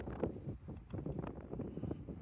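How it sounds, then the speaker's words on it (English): Gusty wind buffets the microphone in uneven low rumbles and bursts, rising and falling throughout. "Oh yeah, it's getting windy."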